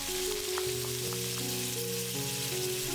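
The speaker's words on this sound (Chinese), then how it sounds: "锅里留底油，放入泡姜和泡蒜，" Pickled ginger and pickled garlic frying in leftover oil in a wok, a steady close sizzle with light crackle throughout while cooking for a Chinese sea bass dish, with no talking.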